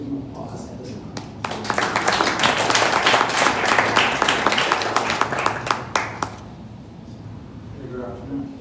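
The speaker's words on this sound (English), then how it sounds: "you all can give him applause at this time" Applause breaks out at a Hispanic venture pitch night as a presenter is handed the stage, individual claps building into loud, dense clapping that fades away after several seconds, with a voice speaking before and after.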